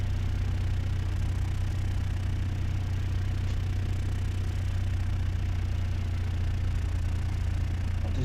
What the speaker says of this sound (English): I'm just taxiing over to the runway at the moment.